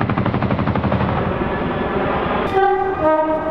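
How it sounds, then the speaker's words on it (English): A train passes through London with a steady, loud rolling rumble that gives way to sustained tonal, horn-like notes near the end. "Oh, now there's a train."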